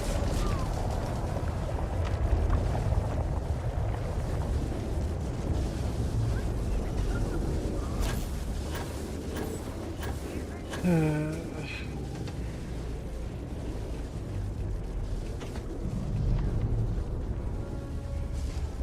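Explosions and combat in the Starfield video game: a dense, continuous low rumble with a sharper burst near the middle, and steady noise throughout.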